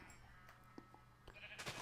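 Faint, distant sheep bleats in Minecraft, a few short calls against a quiet game background with light clicks and soft noise.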